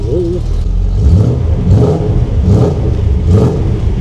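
A Mercedes car engine revs in repeated bursts, about four swelling rises and falls in quick succession, close and loud, with a deep rumbling roar.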